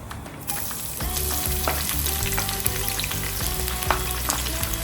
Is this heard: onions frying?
yes